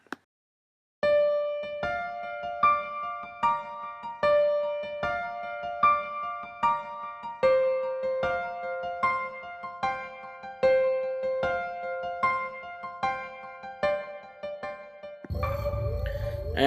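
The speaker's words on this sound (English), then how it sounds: "I started out with this piano part here." A solo piano plays a steady, repeating pattern of bright notes in an even rhythm, with a brief burst of noise at the very end.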